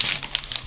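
A small Haribo candy bag crinkles as it is opened, light crackly plastic rustles in short bursts, close and fairly quiet.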